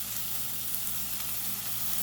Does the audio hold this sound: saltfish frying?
yes